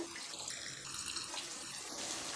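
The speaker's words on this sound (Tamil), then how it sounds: "ஜாரையும் கழுவி தண்ணி ஆட் பண்ணிவிடுங்க" Running water rinsing out a mixer grinder jar while cooking an ivy gourd masala gravy, a steady close hiss and splash of tap water that fills the whole short stretch without talk.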